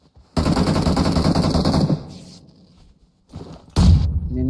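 Rapid automatic gunfire in the mobile battle royale game BGMI, a loud sustained burst of shots followed by a short pause and then another heavy burst, heard alone without talk.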